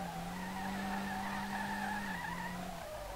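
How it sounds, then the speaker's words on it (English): Car drifting in the SLRR racing game, a sustained loud tire skid and squeal with steady engine drone throughout, alone without talk. "this is some wild-ass drifting"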